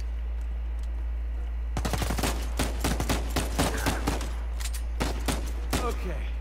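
Rapid gunfire in Uncharted 4 gameplay, with a long string of loud sharp shots in quick bursts over a steady low hum, continuing for several seconds.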